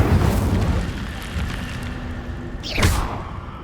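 Incendio fire spell cast in the video game Hogwarts Legacy, a rumbling, roaring fiery burst that ends in a sharp whooshing flare.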